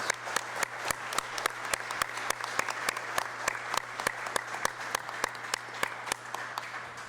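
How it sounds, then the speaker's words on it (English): Audience applause at a report release event, a small group clapping steadily with distinct, evenly spaced sharp claps standing out over a low hum. "let's give all the various participants a big round of applause for all their contributions"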